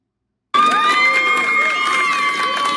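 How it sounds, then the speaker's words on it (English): A street crowd cheers loudly for a girl's violin street performance, bursting in suddenly and holding steady with whoops and children's shouts over sustained tones. "The crowd out on the street listening to her play."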